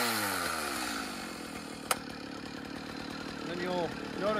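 A chainsaw engine idles steadily after starting, its choke pushed in, running near and fairly loud with a sharp click partway through and a brief rise in revs near the end.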